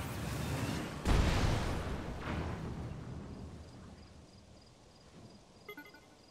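Cannon drones in The Legend of Zelda: Tears of the Kingdom explode with one loud boom that rumbles and fades over several seconds, followed by faint clinking game sounds near the end.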